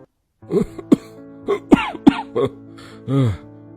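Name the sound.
coughing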